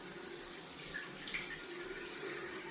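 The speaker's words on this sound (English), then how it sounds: "Just gonna rinse off that lather to see where we're at." Water runs steadily from a tap to rinse shaving lather off a face during a wet shave, a soft continuous hiss with no voices.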